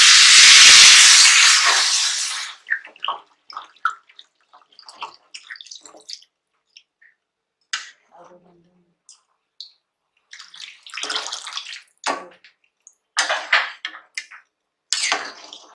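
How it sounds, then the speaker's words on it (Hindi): Water poured into a pot of rice while cooking chicken biryani, a loud rushing pour for the first two seconds that then cuts off, followed by scattered soft clinks, drips and small splashes in a quiet kitchen. "तापरे आमे पानी देबा।"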